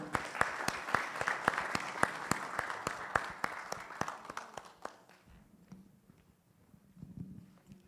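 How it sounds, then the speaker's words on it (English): An audience at a church-hosted wealth summit claps with sharp, distinct hand claps that fade out after about five seconds, leaving a quieter room with low murmuring. "A round of applause for Samson."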